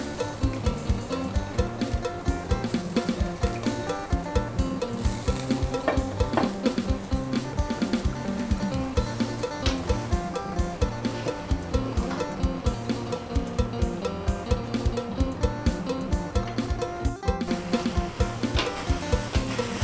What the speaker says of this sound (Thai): จากนั้นนะคะก็ใส่เส้นผัดไทยลงไปผัดได้เลยค่ะ